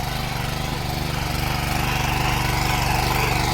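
A mini tiller's small engine runs steadily while harrowing a field, a loud, continuous low throbbing drone with strong rumble and no pauses.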